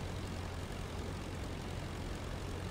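Steady droning roar of a WWI fighter plane's piston engine and propeller in the flight sim Rise of Flight, continuous and fairly loud, filling the whole stretch with no voices.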